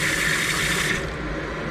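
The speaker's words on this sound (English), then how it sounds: "we got to wash the rice apparently" Tap water runs steadily into a sink while sushi rice is washed, a continuous full splashing rush that thins out slightly toward the end.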